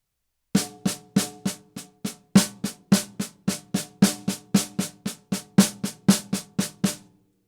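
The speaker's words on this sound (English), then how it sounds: "there's is another one called double paradiddles." Double paradiddles played on a drum, a long run of about twenty crisp, evenly spaced strokes with regular accents, close and alone.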